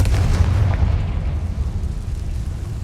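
Confringo fire spell blasts in Hogwarts Legacy, a loud booming explosion with a deep rumbling low end that decays steadily over a few seconds, no voices.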